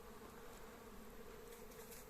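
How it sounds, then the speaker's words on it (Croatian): A swarm of young honeybees circling outside the hive on orientation flight, making a steady, continuous buzzing hum with no breaks, fairly close and alone. "ovako izgleda orijentacioni let mlade pčele"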